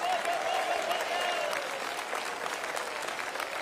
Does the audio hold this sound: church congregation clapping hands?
yes